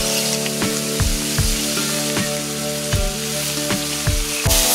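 Meat-wrapped rice balls sizzle loudly in a hot takoyaki pan. The frying crackle is dense and continuous, broken by regular sharp pops and spits, close up and with no voices.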